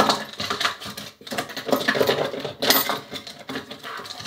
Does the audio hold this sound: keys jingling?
yes